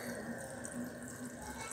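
Water runs steadily from a tap into a sink while fidget mochi toys are washed, a continuous close splashing hiss with no voices.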